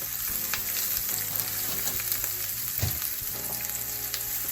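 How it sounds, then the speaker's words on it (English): Onions caramelise in a frying pan for a jackfruit burger, giving a steady, close sizzle with occasional soft stirring scrapes and no voices. "So I'm just going to caramelise my onions here"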